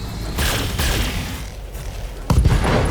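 Mech weapons fire in BattleTech during a battle against a Griffin: booming volleys and rumbling blasts hit hard and close, ending with a heavy impact near the end, and no talk is heard.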